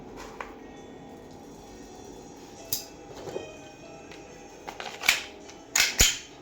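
An EC 1202 Glock 34 full-metal gas airsoft pistol charged with Red Mighty Gas fires several sharp, snappy cracks, a single shot then quick pairs near the end, close and loud against a quiet room.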